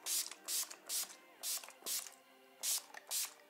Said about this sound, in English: I'm going to use the Urban Decay makeup setting spray.